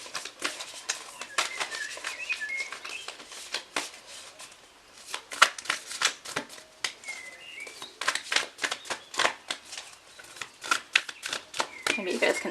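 Tarot cards being shuffled by hand in repeated quick riffling bursts, close and crisp, with short pauses between runs and occasional soft chirps in the background.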